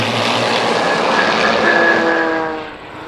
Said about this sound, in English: these aircraft were upgraded to the more powerful 4E models with a 300 horsepower Lycoming engine